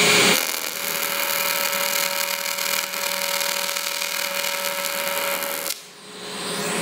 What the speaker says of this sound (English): What I'm going to do first is do a tack at each end while the metal's still quite cool to hold the edges in place.